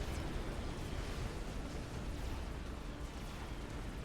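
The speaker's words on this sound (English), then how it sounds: "That nuke landed over here." A nuclear missile explosion in Supreme Commander: Forged Alliance Forever, a dense, continuous roaring rumble holding at steady loudness for about four seconds, with no voices.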